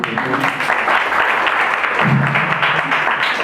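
Applause from an audience at a Portuguese-language discussion event on addiction, a dense, steady wash of many hands clapping loudly throughout, with a brief voice rising within the crowd noise.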